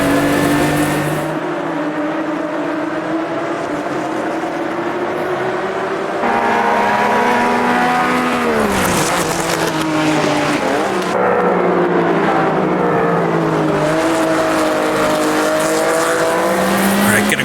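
Race car engines roaring in the video game Automobilista 2, a 60-car AI field, with loud sustained revving that sweeps up and down through gear changes and passing cars, continuous throughout.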